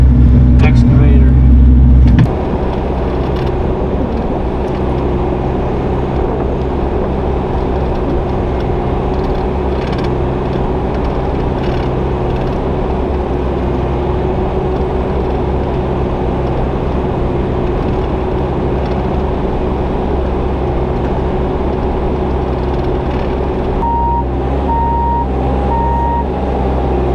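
An excavator works at a farm pond in Southern Illinois, its heavy engine droning steadily and loudly throughout, with a short run of repeating reversing beeps near the end.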